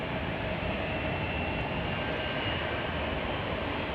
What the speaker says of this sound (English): We're going to go ahead and get that UPS flight from Louisville.